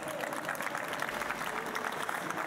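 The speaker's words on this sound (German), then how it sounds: "Einmal nochmal einen Applaus" Steady audience applause at an award ceremony for miniature painting, moderately distant clapping filling the whole moment without pause.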